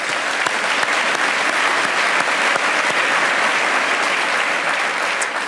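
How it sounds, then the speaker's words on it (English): Loud, steady applause from a large audience at a city State of the City address, honoring middle school student performers, a dense continuous roar of clapping with a few distinct claps poking through. "Let's give them a round of applause"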